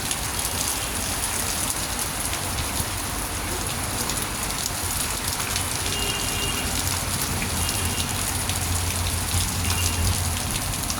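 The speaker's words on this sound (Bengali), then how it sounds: "আজকে সকালবেলার পর থেকে বৃষ্টি হচ্ছে, ভালো বৃষ্টি হচ্ছে।" Heavy rain pours down in a dense, steady wash that holds at an even level throughout, with no voices or other sounds cutting through.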